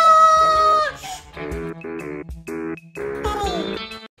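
Chickens clucking and squawking on a farm in a run of close, loud, repeated calls with a few short pauses between bursts.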